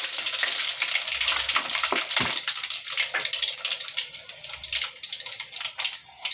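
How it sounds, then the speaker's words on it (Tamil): Mustard seeds, urad dal and fenugreek sizzling and crackling in hot oil in a pan, a loud continuous frying hiss with scattered pops and occasional stirring scrapes. "தேவையான அளவுக்கு எண்ணெய் ஊற்றியிருக்கேன் கடுகு உளுத்தம் பருப்பு போட்டுக்கிறேன் வெந்தயம் கொஞ்சம் போட்டுக்கிறேன்"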